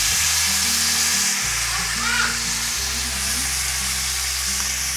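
Filet mignon sears loudly in a pan with butter, rosemary and garlic, a steady close crackling sizzle running unbroken from start to finish, with no voices.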